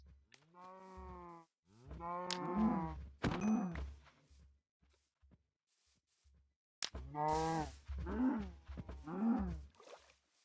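Several drawn-out, harmonic cow moos in Minecraft, loud and close, separated by quiet gaps with soft thumps in between.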